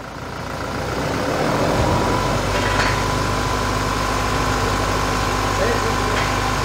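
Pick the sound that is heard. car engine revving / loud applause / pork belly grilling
car engine revving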